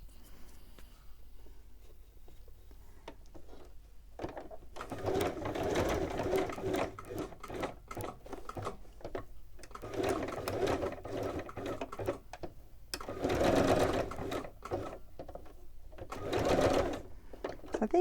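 Bursts of a sewing machine stitching around a craft piece run in several rapid, close runs separated by short pauses and quieter handling sounds.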